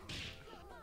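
Sharp whip-like swish of an attack in the fighting game Skullgirls, a single quick lash with a whooshing tail, loud and brief over faint game background.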